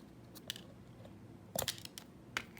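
Scissors snip through Dollar Tree sequin trim used to decorate an apple, a few quiet, short cutting sounds heard close up with no talking.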